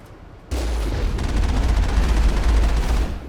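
Enemy gunfire in Mass Effect, a sudden onset of sustained rapid shooting with heavy low rumble that runs continuously and loudly for about three seconds.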